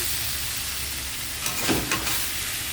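Crushed garlic, dried red chillies, nigella seeds and bay leaf fry in hot oil with a steady close sizzle, briefly stirred partway through, with no voices.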